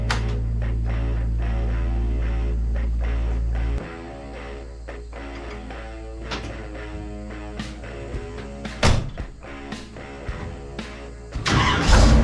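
A 1967 Shelby Mustang engine runs with a loud steady idle, then drops to a lower rumble with occasional revs and clunks as the car rolls into a garage, no voices over it.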